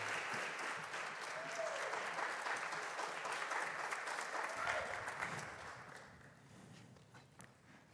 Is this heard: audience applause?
yes